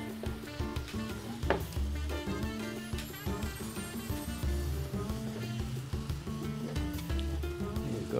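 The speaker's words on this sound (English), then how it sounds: "Mix everything together. Just get all the flavors going, mixing up with the meats." Chicken tagine meat with preserved lemon sizzling in a hot pan while being stirred, a constant frying hiss with repeated scraping and clattering of the utensil against the pan, close and steady.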